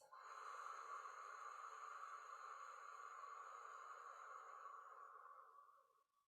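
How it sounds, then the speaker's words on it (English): A long, slow exhale through an O-shaped mouth during a breathing exercise, a steady close airy hiss lasting about six seconds that fades out gently at the end. "a long, slow exhale through an O-shaped mouth."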